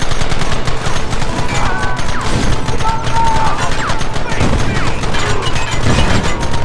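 A loud, close shootout in Red Dead Redemption, with rapid bursts of gunfire and overlapping shots running continuously, punctuated by heavier booming reports.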